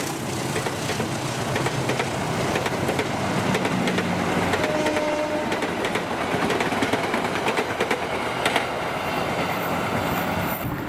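Airlangga passenger train, with a dining and power car, passes at Bekasi Timur as a loud, unbroken rumble of rolling wheels and rattling coaches, with clicking rail joints and faint squeals throughout.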